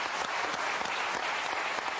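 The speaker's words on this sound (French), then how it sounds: "Allez, on les applaudit." A studio audience applauds at a French television talk show, a dense, steady wash of clapping that fills the whole moment without any voices.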